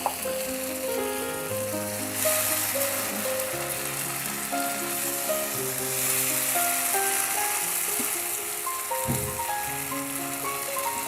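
Blended tomato sizzles and fries steadily in a hot pan over medium-low heat for a Cox's Bazar hotel-style tomato mash, a dense continuous crackle with a brief stirring scrape near the end.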